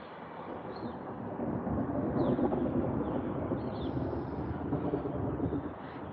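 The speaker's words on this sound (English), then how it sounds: "Can you hear the thunder?" Thunder from a storm rolls as a low, continuous rumble that swells and holds for several seconds, mixed with wind noise and a few faint distant bird calls.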